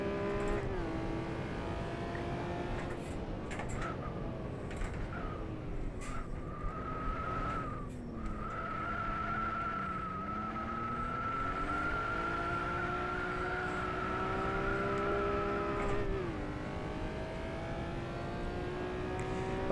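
A Honda NSX in rFactor 2 on the Top Gear Test Track, its engine droning steadily and rising and falling in pitch as it shifts and accelerates through a lap, with no one speaking over it.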